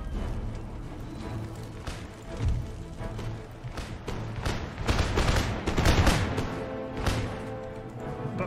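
Artillery and musket fire from a siege battle in the Empire Total War strategy game, a dense continuous fusillade of overlapping shots and booms that swells louder in the second half.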